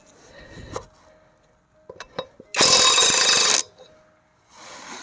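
A Seesii WH700 650 Nm impulse impact wrench unscrewing a bolt: a few faint clicks and taps, then one loud, dense hammering burst of about one second, followed by a quieter whir.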